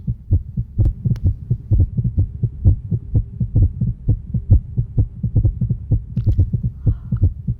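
A steady, deep heartbeat thumps in a regular double-beat rhythm, close and prominent, continuing throughout with no other sounds.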